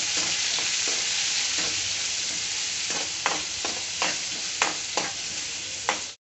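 Finely chopped onions are stirred in a hot pan while frying for a Tamil brinjal thokku. A dense, continuous sizzle carries repeated scraping strokes from the spoon at irregular intervals.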